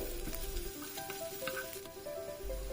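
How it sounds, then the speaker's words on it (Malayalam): Onion, coconut pieces, green chilli and crushed ginger-garlic sautéing for a Karnataka-style pepper mutton roast, a soft steady sizzle with occasional stirring scrapes and clinks close by, no talking. "അതിലേക്ക് തേങ്ങാക്കൊത്ത്, പച്ചമുളക്, ഇഞ്ചി വെളുത്തുള്ളി ചതച്ച് വെച്ചത്, ഇതെല്ലാം ഒന്നിച്ചിട്ട് നന്നായിട്ട് വഴറ്റിയെടുക്കുകയാണ് ചെയ്യുന്നത്"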